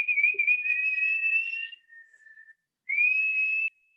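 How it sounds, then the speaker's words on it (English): Kids whistle during an art class, producing clear sustained pure-toned notes, one long whistle and a shorter one after a brief pause, close and alone with no talking. "can you guys whistle? Let's just maybe whistle for a second."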